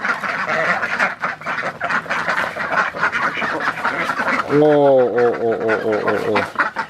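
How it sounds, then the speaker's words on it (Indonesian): Ducks eating homemade feed give a short burst of loud, nasal quacks near the end, following steady talk that continues over the calls. "Untuk kita tes uji coba apakah ini akan dimakan oleh bebek."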